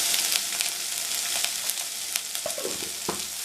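Onions with a little salt sautéing in a pan for Tamil puli sadam made from leftover rice, a steady close sizzle with brief scrapes and clinks of stirring near the end, no speech.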